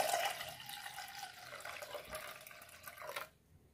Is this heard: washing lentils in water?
yes